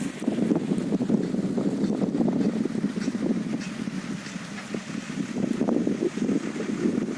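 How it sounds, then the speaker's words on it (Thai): Strong wind from an approaching storm buffets the microphone in a continuous loud low roar with gusty swells. "โอ้ยพายุกำลังมาพายุอันนี้"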